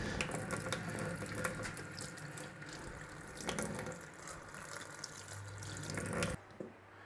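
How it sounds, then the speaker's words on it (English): Running tap water rinsing salt off sliced aubergine in a kitchen sink, a steady close splashing stream with light clatter that stops abruptly near the end, leaving faint drips and no talk. "The next job for us is to actually rinse the salt off this"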